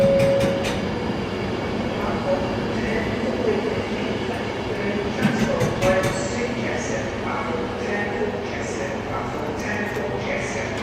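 Class 350 electric multiple unit in London Northwestern livery passing at Crewe station on the West Coast Main Line, a steady rolling rumble with clattering wheel noise and faint distant sounds, voices briefly audible.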